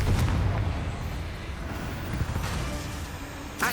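A Confringo blasting spell from Hogwarts Legacy goes off as a loud, rumbling explosion with a booming low tail, followed by a second sharp blast at the end.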